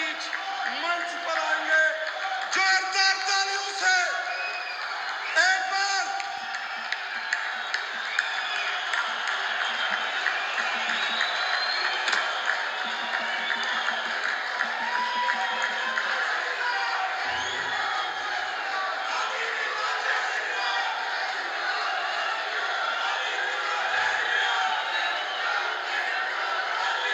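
A large crowd at a political rally in Udhampur, Jammu and Kashmir, awaiting the Prime Minister, fills the space with sustained cheering, whoops and clapping, with a brief burst of louder shouts near the start.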